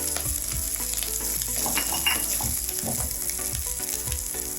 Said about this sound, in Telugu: పచ్చిమిరపకాయలు కొంచెం వేగితే చాలు మరీ ఎక్కువ వేగక్కలేదు